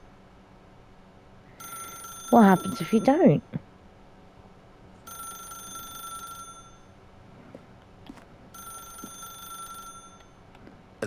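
A telephone rings in The Stanley Parable video game, three ring bursts spaced evenly, with a voice speaking briefly between the first and second rings.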